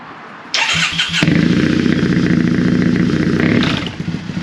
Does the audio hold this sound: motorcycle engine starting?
yes